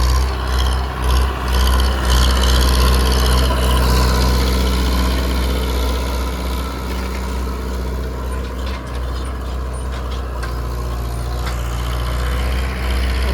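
A heavy diesel four-cylinder Digitrac PP 46 tractor engine pulling a harrow in high gear rumbles steadily and loudly throughout, a deep low throb with rasping mechanical noise on top, no voices.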